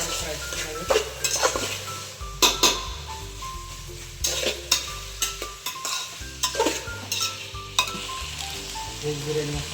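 Vegetable pulao ingredients fry and are stirred in a pan, a sizzle broken by repeated metal scrapes and clinks of a spoon against the pan, close and uneven in rhythm.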